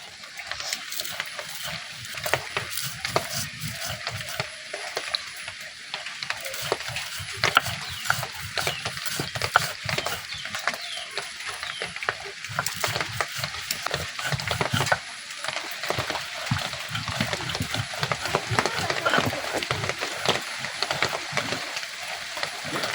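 Dried fish is ground by hand on a grinding stone, giving a continuous close-up gritty scraping and knocking with a steady back-and-forth rhythm throughout.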